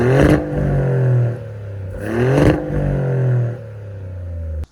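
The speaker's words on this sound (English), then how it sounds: "Now, how does it sound? V6 Maserati, twin turbo Maserati." A twin-turbo V6 in a 2024 Maserati GranTurismo Modena revs hard twice, each loud, close blip rising and then settling back to a rumbling idle, with no voices.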